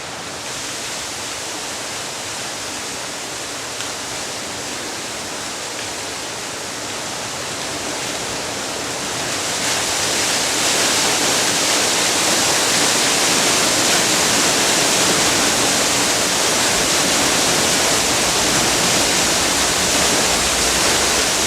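Water pours steadily over a 12-foot-wide, 10-foot-diameter mill water wheel at a sawmill, a continuous broadband rushing roar that swells louder partway through and then holds loud and close with no talking.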